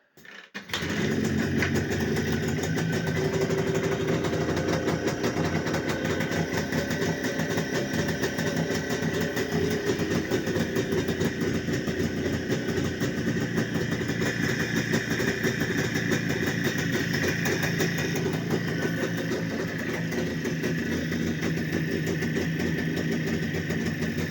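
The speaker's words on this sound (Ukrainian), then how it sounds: "Мотоцикл зібраний на хороших комплектуючих і заводиться прекрасно." A Jawa motorcycle engine idles steadily and loudly after repair, a continuous close rumble that runs without a break after a brief start.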